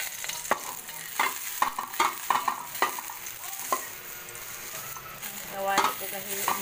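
Garlic sautéing in a pan for a mixed vegetable dish: steady oily sizzle under repeated sharp clinks and scrapes of a utensil stirring against the metal, close and fairly loud.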